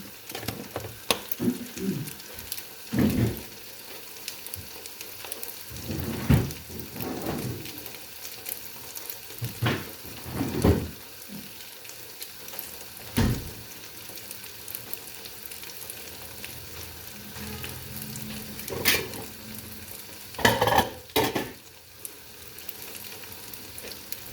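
Food frying in a pan in a village kitchen, a soft continuous sizzle broken by scattered scraping and clattering stirs at irregular intervals, close and moderately loud, with no talking.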